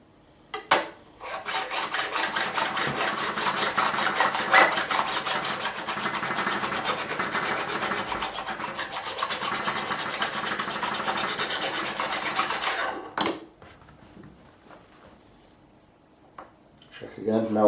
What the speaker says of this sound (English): And then we'll turn the file over, do it one stroke that way just to remove the scratches.